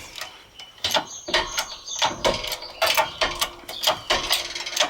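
A worn front wheel bearing is pressed out of a high-mileage 1997 Audi Quattro, producing a close series of irregular metallic clicks, creaks and ratcheting knocks in quick bursts, without talking.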